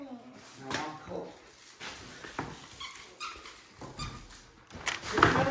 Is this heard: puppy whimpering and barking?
yes